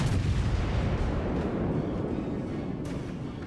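Warship guns fire in a naval video game, a loud close boom opening into a long rumbling roll of heavy gunfire that slowly decays, with a couple of sharper hits layered on top.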